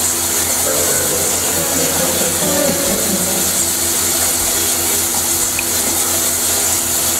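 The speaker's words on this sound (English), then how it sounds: "You broke the shower." Water sprays steadily from a broken shower in The Sims 4, a loud constant hiss and gush lasting throughout with no voices.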